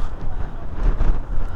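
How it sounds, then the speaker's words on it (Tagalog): Heavy wind at a mountain viewpoint on the Villa Verde road from Pangasinan to Nueva Vizcaya buffets the microphone in a constant low rumble, loud and close, with no clear voices. "Grabe, napakalakas na hangin dito."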